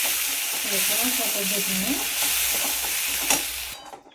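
Tempering for chutney sizzles loudly in a pan with asafoetida, a steady bright crackle and hiss that holds throughout, while someone speaks briefly over it near the end.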